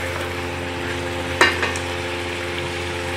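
Chopped onions frying in a pan over a medium flame on a home stove, a steady close sizzle with one brief clink of stirring partway through.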